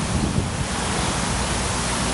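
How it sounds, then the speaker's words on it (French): Strong gusts of wind blow steadily across an outdoor park, a loud, continuous broadband roar buffeting the microphone with no voices heard. "ça recommence, les grands coups de vent"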